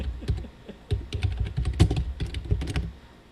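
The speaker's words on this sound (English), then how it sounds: "Mike was typing" Rapid typing on a computer keyboard, a dense run of sharp clicking keystrokes at close range in irregular bursts, fading near the end.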